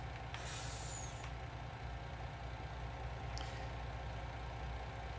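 Truck air brake being set in Farming Simulator 19: one sharp hissing release of air over a low, steady idling engine, followed by a second faint hiss.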